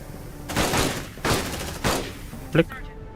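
Gunfire in Aliens: Dark Descent, three separate loud bursts of rapid shots spaced about a second apart, followed by a short sharp impact, with voice chatter in the background.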